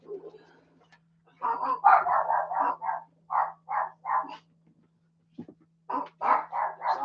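Dogs barking indoors at home, close rapid runs of barks in a few separated bursts with short pauses between, over a low steady hum.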